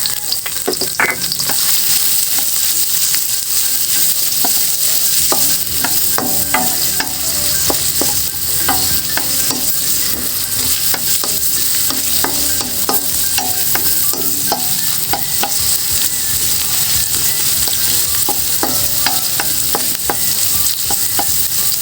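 Garlic and onion sauté together in a hot pan for pork liver adobo, a steady close sizzle of frying with frequent scraping and stirring clinks running throughout, no voices.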